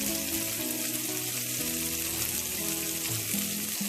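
Parsnip toasts in a hot pan with a dense, continuous sizzle, loud and close, with no voices over the frying hiss.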